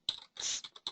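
Quick burst of keystrokes on a computer keyboard while typing into a search field, a handful of sharp close clicks in an uneven rhythm.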